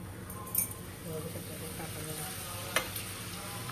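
Papad deep-frying in a large kadhai of hot oil, a steady bubbling sizzle throughout with a couple of sharp clinks from utensils, close and moderately loud.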